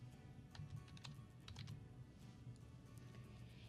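Typing on a computer keyboard, a short run of light, close key clicks in quick bursts, faint against low background hum.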